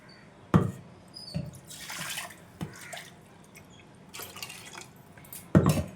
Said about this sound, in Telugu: ఇందులో కొద్దిగా వాటర్ వేసుకుందాం